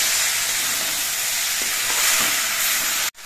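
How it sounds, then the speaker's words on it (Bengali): Vegetables with turmeric and cumin frying in a kadai for a Bhola fish curry: a steady, loud sizzle and hiss with faint stirring scrapes, ending in a short clatter. "এই সময় কিন্তু কিছুক্ষণ বাদে বাদে নেড়ে দিতে হবে যাতে সবজিগুলো কড়াইয়ের নিচে লেগে না যায়"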